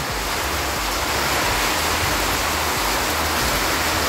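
Heavy rainwater rushes and pours continuously into a pool after running around a house, a loud, dense roar of splashing with no pauses, close by.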